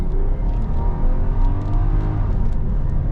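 A 1998 Toyota Aristo V300 with the 2JZ-GTE engine accelerates hard, its loud, sustained engine note climbing in pitch through the revs, heard from inside the car with no talk.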